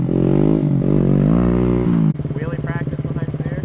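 A motorcycle engine revs hard and holds a high, rising drone as the rider lifts into a wheelie, then drops to a lower, throbbing pulse; a voice speaks briefly over it.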